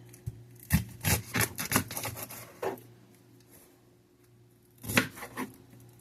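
A knife chops onion on a wooden board in a home kitchen, with a quick burst of close, crisp thuds, a pause, then another short run of cuts.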